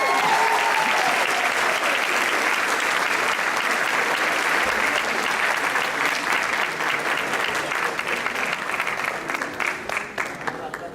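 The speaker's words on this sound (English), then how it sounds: "How many of us owe a round of applause to Joanne Andira?" Audience at a folk dance concert applauds loudly and continuously for about eleven seconds, dense clapping that slowly thins toward the end.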